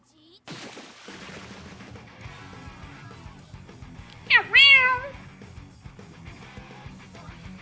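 A cat lets out a short, rising meow followed by a longer drawn-out one, close and clear, set against game sounds and busy background noise.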